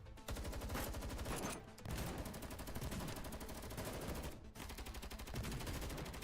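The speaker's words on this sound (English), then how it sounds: "Those gunshots?" Rapid automatic gunfire from the video game Girls Frontline 2, sustained bursts of dense shots with brief pauses between them, loud and continuous.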